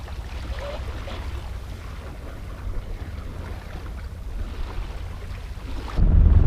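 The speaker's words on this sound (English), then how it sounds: "well, I'm motoring again" A sailboat motoring under engine power on open water, heading upwind, with a steady low engine drone blended with wind and water noise throughout, and a louder rumbling surge near the end.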